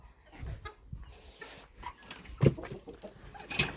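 Chickens cluck softly in a farmyard where a broody hen keeps autumn chicks, with scattered short calls and rustling, one sharper squawk near the middle and another toward the end.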